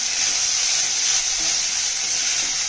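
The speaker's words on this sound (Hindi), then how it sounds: "ये पोहा जो हमने पहले से तैयार कर रखा था ये हम इसमें पैन में डाल देंगे। और फिर इसको मिक्स करेंगे।" Pre-soaked poha is tipped into a hot pan and stirred, giving a steady, close frying sizzle and hiss throughout, with soft stirring scrapes underneath and no talking.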